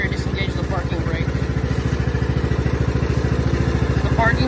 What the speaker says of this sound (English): I started up the engine